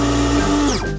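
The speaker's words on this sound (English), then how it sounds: "And I'll blend the milk on my own as well." Milk for coffee is blended, giving a loud, close, steady motor whir that holds level, then its pitch slides down as it winds down within a second.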